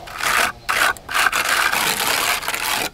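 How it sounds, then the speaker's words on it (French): A plastic float rubs in circular motions over fresh render on a building facade, a loud close rasping scrape in long repeated strokes with brief pauses between passes. "Passe ensuite avec un platoir en plastique sur la façade"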